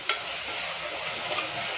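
Tomato, onion and brinjal sautéing in a pan for a kosamalli side dish, a steady broadband sizzle with a couple of brief stirring scrapes, close and unbroken, no voices.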